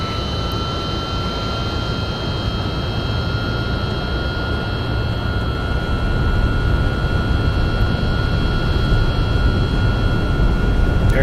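Boeing 757-200F jet engines at takeoff power in X-Plane 12 give a loud, steady roar with a constant whine that builds slightly in strength over time, with no talk.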